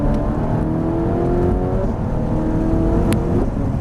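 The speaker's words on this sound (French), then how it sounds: "C'est un point de sortie, on a les roues droites, on accélère." A Ferrari 458 Italia engine climbs steadily in pitch as the car accelerates hard out of a corner on a race track, heard loud and close from inside the car with no talking.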